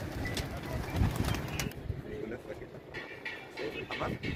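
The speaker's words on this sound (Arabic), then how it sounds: "حمام كده هيتجمع مع بعضه كده هيتجمع طبعا" Pigeons gather at a pigeon tower in Rawda, Damietta, cooing and fluttering close by. Soft voices and some background noise are mixed in.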